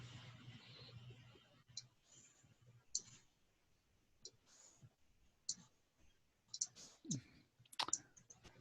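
Sharp computer mouse clicks sound as scattered single taps, a few in quick succession, quiet and close, with faint background hum and a brief murmur of a voice.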